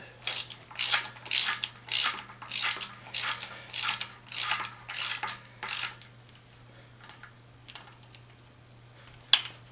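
Ratchet with a 12 mm socket turning bolts on a rally car engine during cam installation, about ten loud, close clicking bursts in steady rhythm, then sparse faint ticks and one sharp click, over a faint hum.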